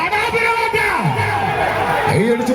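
A crowd roars and whoops at an all-Kerala tug of war contest at Vallikkadavu, loud and continuous, with a voice shouting over the din.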